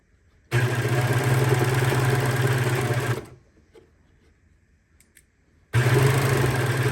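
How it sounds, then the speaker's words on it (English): A sewing machine stitches the tunneled edge of fabric for a hat or neck warmer. It makes a loud, steady, close motor whir in two bursts of about three seconds and just over one second, with a quiet pause between them. "we're taking out the pins as we're sewing the edge"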